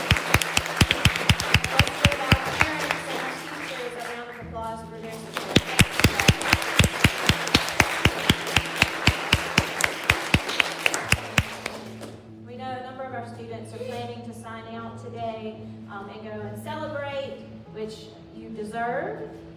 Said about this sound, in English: Let's give our parents and our teachers a round of applause for their support.